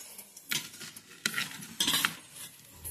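A spoon stirs palm jaggery into wheatgrass juice, producing three or four separate bursts of light clinking and swishing against the glass, close and fairly quiet, with short pauses between them.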